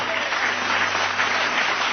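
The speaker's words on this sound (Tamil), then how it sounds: "கைதட்டு கைதட்டு" Church congregation at a Tamil Christian service clapping together, dense continuous applause that is loud and close, filling the whole moment without a break and with no speech over it.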